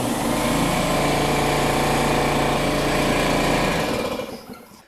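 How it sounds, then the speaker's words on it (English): A DeWalt 225 PSI air compressor motor runs with a loud, steady mechanical drone and rattling hum close by, then winds down and fades near the end; no one speaks. "when the air compressor kicked on"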